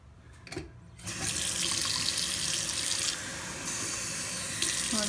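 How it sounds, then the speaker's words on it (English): Tap water runs steadily into a cup at close range after a brief quiet start, a continuous hissing splash that holds loud for several seconds with no voices. "So I'll fill that up with a little bit of water."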